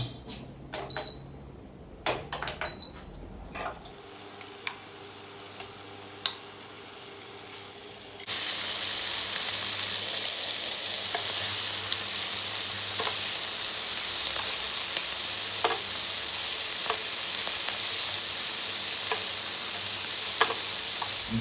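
Fresh shrimp with sea salt and sweet chili sauce fry in a hot pan, a quiet start with a few clicks giving way to a loud, steady sizzle that runs on with small pops and crackles.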